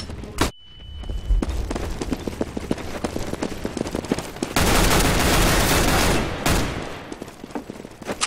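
CS:GO match with a flashbang popping sharply at the start, then rapid bursts of gunfire and scuffling footsteps, a loud sustained barrage in the middle and more shots toward the end.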